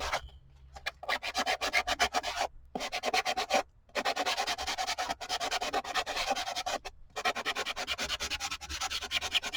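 Fine grit sanding block rubbed along the edges of a wooden mixed media board, a steady close scratchy rasp in repeated strokes with a few short pauses, no talking.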